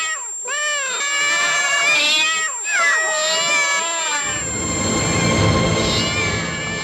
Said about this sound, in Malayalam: ഈ ഹൈ ഫ്രീക്വൻസി ശബ്ദം പൂച്ചകളുടെ സ്വഭാവം എങ്ങനെ മാറ്റുന്നുവെന്ന് കാണാം